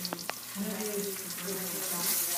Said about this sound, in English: we're gonna saute or fry. It's basically a shallow fry.